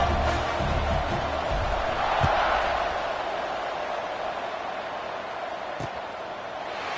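A stadium crowd in a college football video game roars and cheers before a kickoff, a broad loud wash of noise that slowly fades and has a couple of brief thuds.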